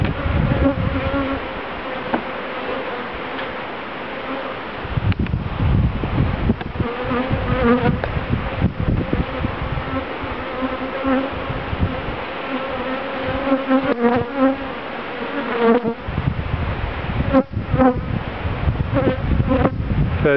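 Worker honey bees buzz steadily around beehive boxes during queen placement, a dense, continuous hum close by that swells and dips, with no talk over it.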